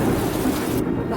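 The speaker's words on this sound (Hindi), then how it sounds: "बाहर बारिश बहुत तेज हो रही है" Heavy rain pours down outside in a continuous loud roar, a dense unbroken downpour filling the whole moment, with no voices over it.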